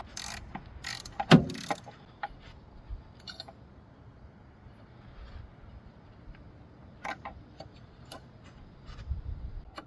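A ratchet wrench removes the bolts holding the fuel rail on a VW Jetta or Golf engine, giving short bursts of rapid clicking, loudest early on and then fainter and scattered.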